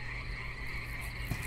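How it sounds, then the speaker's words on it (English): Frogs croak in a horror-themed PS1 demo disc game, a continuous looping chorus of low and mid croaks at a steady, fairly quiet level with no speech. "It's a bunch of random videos of frogs on repeat."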